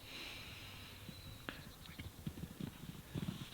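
Horses move about in a field near a fence, hooves clip-clopping in a loose, uneven rhythm alongside snorts and sniffing breaths, fairly close and moderately loud against a steady outdoor hiss.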